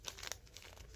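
A sheet of paper is folded into a paper boat, giving a faint, soft crinkling and rustling over a quiet second.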